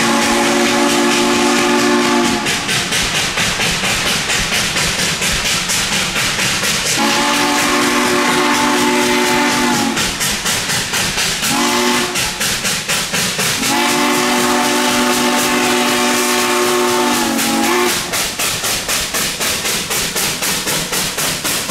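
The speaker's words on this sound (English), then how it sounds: "this spot is the perfect place to film steam working hard as it climbs the steep grade" Texas State Railroad steam locomotive laboring up a steep grade, loud and close, with rapid rhythmic exhaust chuffs and repeated long whistle blasts rising over the steady pounding.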